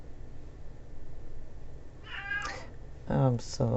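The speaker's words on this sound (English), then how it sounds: "my goodness, this cat." A house cat meows twice, close to the microphone, during a tarot reading, over a steady low room hum; the second call is louder and drawn out.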